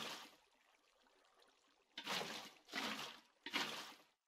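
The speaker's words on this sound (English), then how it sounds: "go ahead and place in your buckets of water" Water poured from buckets in Minecraft: a faint splash fades at the start, then three separate gushing pours follow in quick succession, each a short, bright rush of liquid.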